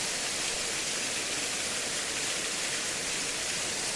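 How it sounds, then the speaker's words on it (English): Water spills steadily over a small waterfall outdoors, a continuous broadband rush with no breaks, fairly faint and alone with no voices. "There's enough water falling over there to give that sort of streamy horsetail effect look"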